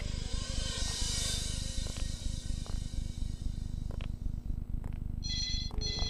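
A telephone ringtone sounds in a hotel setting, a faint repeating electronic tone over a dense, steady low pulsing drone, with brief bursts of higher chirping near the end.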